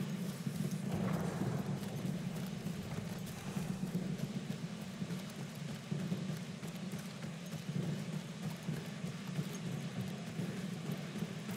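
Horse hooves in the video game Battlefield 1, a steady clip-clop running continuously under a dense low rumble of game ambience, with no talk.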